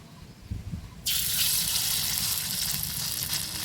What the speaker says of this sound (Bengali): এবার বড়ার জন্য দিয়ে দিব কড়াইতে তেলে